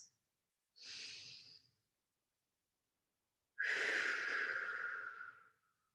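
Two slow breaths are taken while a stretch is held: a short airy breath, a pause of silence, then a longer, fuller exhale through the nose or mouth, close and quiet with nothing else around.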